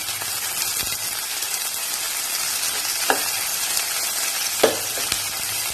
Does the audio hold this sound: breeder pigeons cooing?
no